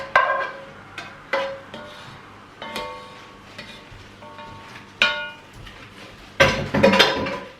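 Kitchen pans being swapped for a larger casserole pan while batch cooking a kilo of mince: separate metallic clanks and knocks a second or so apart, ending in a louder clatter.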